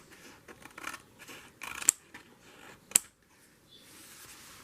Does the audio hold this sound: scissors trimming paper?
yes